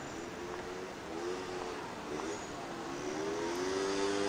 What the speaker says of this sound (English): The traffic is kind of crazy around here, so you have to run in order to not get hit by the cars